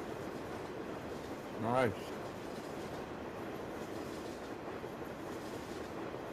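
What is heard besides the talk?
train passing by in Farming Simulator 17 video game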